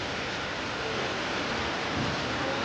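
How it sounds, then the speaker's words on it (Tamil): Steady broadband rush of water running through Arwah Cave in Meghalaya, a continuous wash with no distinct events, close and fairly loud throughout. "இதெல்லாம் தண்ணி ஓடுது பாருங்கள். இங்கே தண்ணி ஓடுது."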